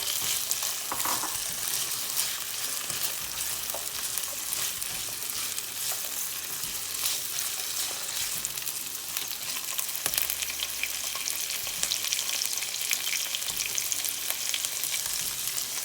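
Carrots and sweet potatoes fry and get stirred in a pan for soup, a steady loud sizzle with scraping stir strokes throughout, no voices.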